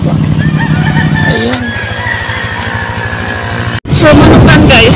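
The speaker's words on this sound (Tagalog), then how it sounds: "tinatawag itong manukan kasi nga marami palang mga manok dito" Chickens clucking in a chicken farm area along a mountain road trip route, heard amid steady loud engine or road noise with a brief word spoken near the end.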